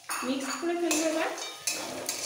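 A utensil scrapes and clinks against a pan while stirring masala dosa filling seasoned with broken fried chillies, producing a few close metallic scrapes and taps in a short irregular series, with faint kitchen resonance and no talking.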